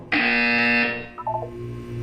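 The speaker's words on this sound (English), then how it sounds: "When you hear the buzzer, look down at the floor." A loud electronic buzzer from the video game Portal 2 sounds once in a single sustained tone, followed by a few short beeping tones that fade out.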